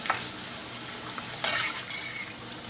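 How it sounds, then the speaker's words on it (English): Thin banana slices frying in oil for homemade Kerala banana chips, a soft continuous bubbling sizzle with a sharp utensil clink partway through, no one speaking. "Don't put so many slices at one time, just put some little slices. Fry them for 5 to 7 minutes."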